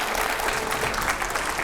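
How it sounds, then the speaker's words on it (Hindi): A studio audience on a TV9 political talk show gives a short burst of loud, dense applause as a guest is welcomed. "स्वागत करिए जोरदार तालियों से"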